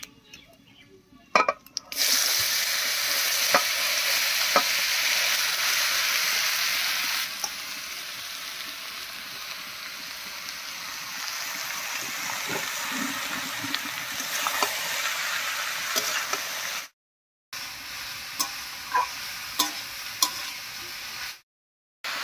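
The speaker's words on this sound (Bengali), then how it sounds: "লাউটা দিয়ে নাড়িয়ে নিয়েছি" Chopped bottle gourd sizzles steadily after going into a pan of hot oil tempered with whole cumin and bay leaf, with stirring scrapes through the frying and two brief silent cuts near the end.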